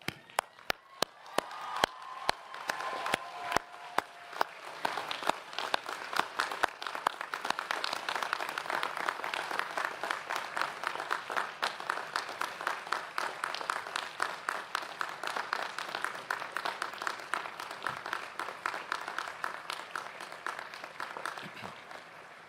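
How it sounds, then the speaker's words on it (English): A commencement ceremony audience gives a long, hearty round of applause, starting with a few scattered claps and swelling into sustained, dense clapping from a large crowd that holds steady to the end. "join me in thanking your families and friends with a hearty round of applause"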